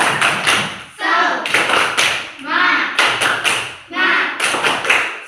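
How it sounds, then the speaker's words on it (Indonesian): Primary school religious-education class of children doing a rhythmic cheer clap in a classroom, bursts of patterned claps alternating with group chanting voices, loud and close. "tepuk semangat"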